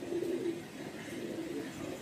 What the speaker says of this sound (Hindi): ये रामपुरियों में से कालसरी कबूतरी है